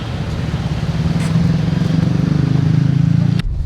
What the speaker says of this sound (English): This is our Grab car.